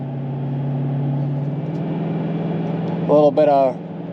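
A manual Dodge Challenger Hellcat V8 hums at a low steady drone from inside the cabin, then gives two quick sharp rev blips near the end as the engine rev-matches.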